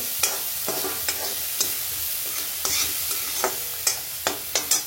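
Green chilli paste frying in oil in a pan for sabudana khichdi, a steady sizzle with a series of sharp spatula scrapes that come faster toward the end.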